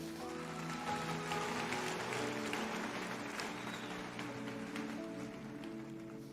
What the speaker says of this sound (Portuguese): uma salva de palmas para ele que me contratou